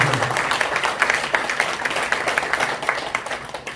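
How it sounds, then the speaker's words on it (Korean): A room of people at a forum lecture gathering claps for a member being introduced, a brisk, loud patter of many hands with distinct individual claps that stays even throughout and then tapers slightly, no speech over it. "박수."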